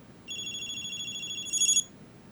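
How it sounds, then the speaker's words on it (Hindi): A phone rings with a bright electronic tone, one sustained ring that swells louder near its end before stopping, heard alone over quiet room tone. "उठाओ उठाओ फोन।"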